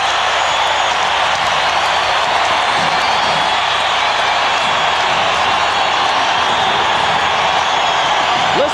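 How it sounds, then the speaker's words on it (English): Loud roaring basketball crowd inside the Delta Center during a 1998 NBA Finals game between the Jazz and Bulls, a continuous dense wall of cheering and noise with no pauses. "Listen to this crowd at the Delta Center."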